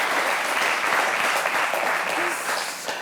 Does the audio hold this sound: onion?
no